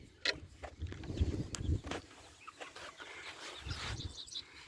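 Barred Rock chickens clucking softly in a farm pen, faint scattered clucks and low murmurs at a distance, with light background noise and no talking.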